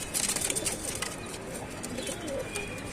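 Pigeons offered for sale in Tanta, Egypt, coo softly and repeatedly close by, with light chirps and a brief flutter of wings against a busy background.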